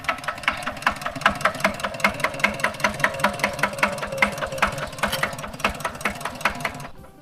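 A walking tractor used as a farm vehicle in a rural Thai village runs with a steady, rapid single-cylinder chug, loud and close, continuing evenly throughout with no talk.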